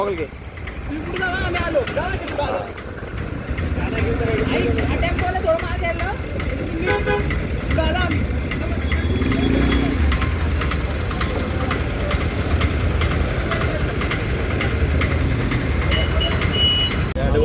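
Heavy road traffic near Dive Ghat during the Pandharpur pilgrimage, with engines rumbling, repeated horn toots and reversing beeps, and voices talking throughout.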